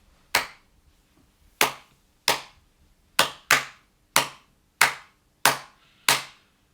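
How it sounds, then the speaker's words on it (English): Nine crisp hand claps ring out alone, close and loud, forming a steady rhythm with one quick double clap in the middle, a grade 2 clap-back listening test rhythm. "And then you would have to clap it back."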